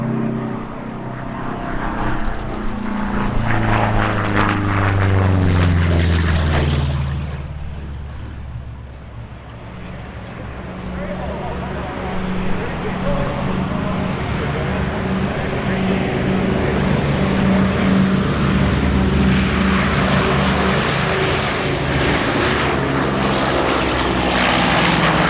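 The piston-engined C-121A Super Constellation Bataan passes close overhead with a heavy, throbbing propeller drone that sweeps downward in pitch as it goes by, fades, then swells again into a broad roar.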